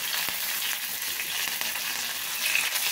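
Crushed garlic, cumin, green chilli and seven or eight curry leaves sizzle in hot oil as a spice base for drumstick curry, a steady close crackling hiss with a few faint stirring clicks, no voices.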